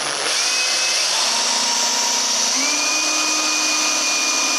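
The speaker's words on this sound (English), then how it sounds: "And then I can go through and pre-drill and screw this off." A power drill whines steadily while pre-drilling screw holes in a door being hung, loud and close, with a continuous motor drone and a slight pitch shift partway through.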